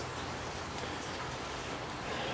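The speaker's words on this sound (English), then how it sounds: "Pouring down rain." Heavy rain pouring down outside at night, a dense, steady hiss of falling drops with no talking.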